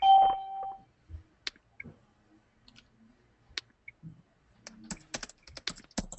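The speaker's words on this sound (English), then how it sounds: "Somebody's typing." Sparse keyboard clicks and a few quick bursts of typing, fairly close, with quiet pauses between and a brief tone at the start.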